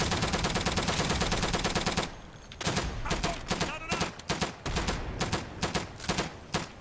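Rapid automatic gunfire in the World War II shooter Day of Infamy during multiplayer combat: dense machine-gun bursts at first, then a string of separate loud shots and short volleys, with no talk.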